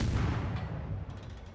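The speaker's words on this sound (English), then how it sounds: "We'll spam the shells out." Tank cannon shells fired in a video game: a heavy booming blast opens, followed by a rumbling low tail and further softer thuds, loud and close.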